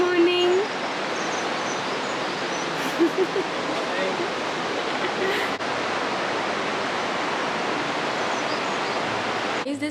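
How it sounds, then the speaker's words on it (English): The Tirthan river rushes through Tirthan Valley in Himachal, flowing close by in a steady, loud, unbroken roar of water that fills the whole stretch with no voices. "I don't know if you can hear that sound of the river flowing just right in front of our room."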